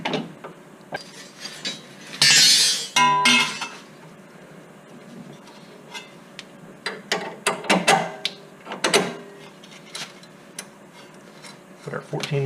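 A ratchet drives a 14 mm bolt during a Mazda Miata coilover install, with bursts of quick clicking and metallic clanks of tools and parts among pauses, close by, with a person talking at times.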